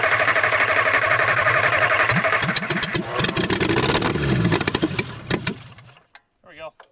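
An old MG engine that had been seized for 42 years runs on carburetors with no exhaust fitted, loud and raw with uneven revving bursts before it cuts out, and people talk briefly over it at the end.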